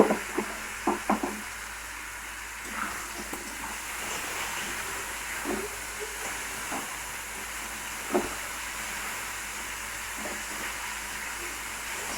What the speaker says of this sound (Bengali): নারকেলটা একসঙ্গে ভাজবো আমরা